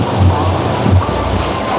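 A 6-inch axial irrigation pump driven by a 5 HP electric motor sends out a strong, steady rush of gushing water, loud and continuous throughout, with a low rumbling churn beneath.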